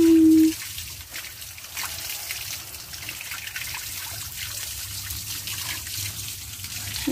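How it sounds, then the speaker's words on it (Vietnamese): Water trickles and splashes steadily while ducklings are bathed at a riverside in rural Vinh Long, a continuous soft running-water sound close by after a brief tone at the start, with no clear speech. "Tắm vịt đấy con."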